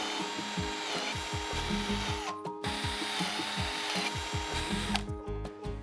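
A power drill bores a dowel hole in wood through a drill guide, giving loud, rapid rattling bursts with a steady motor whine that cuts out briefly twice, with no speech.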